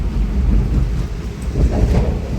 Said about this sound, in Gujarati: અત્યારે મુંબઈમાં વરસાદી માહોલ છે